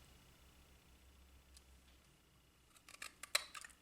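Scissors snip paper for a toile gift-wrapped Christmas card, a faint, quiet stretch followed by a short cluster of crisp close cuts near the end.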